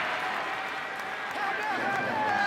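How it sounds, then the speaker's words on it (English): A rugby league stadium crowd in a Manly Warringah Sea Eagles versus Parramatta Eels match cheers and applauds a strong run, a broad, steady roar that swells slightly toward the end under continuous commentary. "Crowd appreciate that one."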